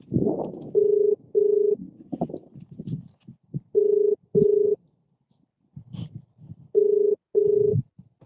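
Telephone ringing with an incoming call in a contractor's office, three pairs of short, loud electronic rings separated by pauses, with brief muffled voices and movement between them.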